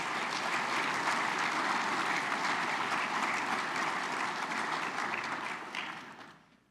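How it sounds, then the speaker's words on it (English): Sustained applause from an audience at a business meeting and awards luncheon, dense and even clapping from many hands that holds steady for several seconds and then fades away at the end. "Let's give them all a round of applause."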